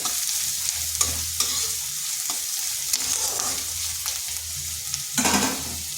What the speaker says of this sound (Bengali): এগুলোকে হালকা একটু ভেজে নিচ্ছি যাতে রসুন আর পেঁয়াজের কাঁচা গন্ধটা চলে যায়